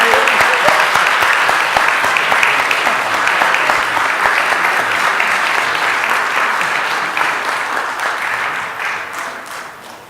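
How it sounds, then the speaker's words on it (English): Sustained applause from a crowd honoring graduates at a city council meeting, a dense steady clapping that fills the room for about ten seconds and slowly fades toward the end. "another round of applause for our graduates"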